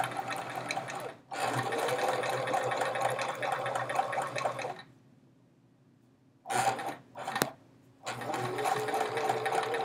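A sewing machine stitches chevron quilt pieces in rapid continuous bursts, running steadily, pausing for a few seconds, then restarting in short spurts before a long final run, close and clear without talk.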